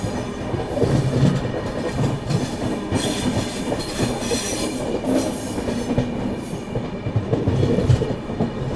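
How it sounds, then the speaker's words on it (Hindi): Barauni–New Delhi clone special passenger train running at high speed, around 130 km/h, heard from onboard as a steady loud rumble of wheels and rails with faint clickety-clack throughout. "अपनी ट्रेन ने तो बढ़िया स्पीड पकड़ ली है"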